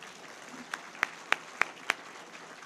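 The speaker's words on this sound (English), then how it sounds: "Give Brandy another round of applause." A few isolated hand claps at an awards ceremony, five sharp evenly spaced claps rising out of a quiet room, moderately close with no crowd roar behind them.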